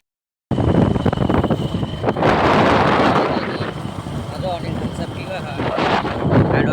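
Strong wind buffets the microphone in gusty rumbling bursts outdoors beside a farm road, loud and close, with voices talking over it.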